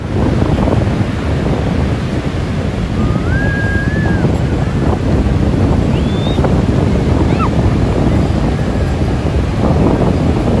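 Ocean surf rolls onto the beach at Santa Monica Pier in a constant, loud wash, with wind buffeting the microphone and a few faint high chirps rising briefly above the roar.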